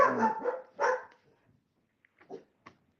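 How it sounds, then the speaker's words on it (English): A dog barks twice loudly up close, followed by quieter, scattered yips and small sounds trailing off into near silence. "No barking."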